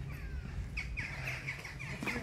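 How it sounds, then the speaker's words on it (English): Birds calling inside a walk-in enclosure at Tayto Park, with a few harsh crow-like caws repeating through steady outdoor background noise. "So there's the birds."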